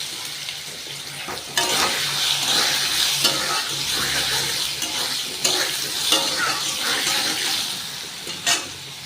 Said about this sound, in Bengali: আলু দিয়ে দিলাম, আলুটা সামান্য ভাজা ভাজা হলে তারপরে অন্যান্য সবজি একে একে দিয়ে দেবো